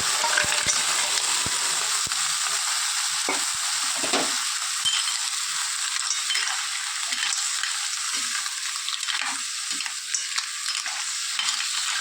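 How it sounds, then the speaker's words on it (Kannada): Clams go into a hot pan for marvaay sukka and are stir-fried, a loud steady sizzle with repeated scraping and stirring strokes throughout, close and without speech. "ಇದಕ್ಕೆ ಈ ಮರುವಾಯನ್ನು ಹಾಕಿ."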